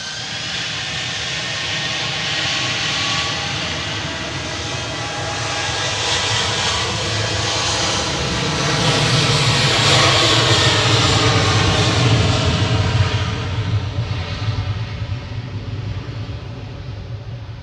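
A Boeing 737-800 departing Manchester Airport for Bratislava gives a steady, loud jet engine roar that builds gradually to a peak and then eases slightly, with no talk over it.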